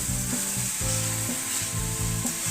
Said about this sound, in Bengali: 3 থেকে 4 মিনিট খুব সুন্দর করে ভাজি করতে হবে।